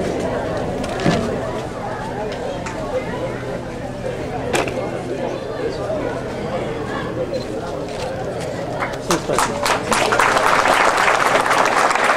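Applause from a crowd at a community ceremony in Moromoro for delivery of telephone and internet service, building toward the end, mixed with background chatter and murmuring voices throughout.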